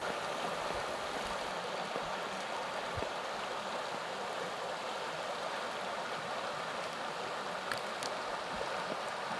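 A river flows steadily where deer cross it, giving a continuous, even rush of moving water that stays close and fairly loud throughout, with no voices.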